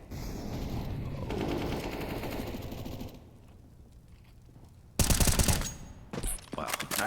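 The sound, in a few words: gunfire in the video game CS:GO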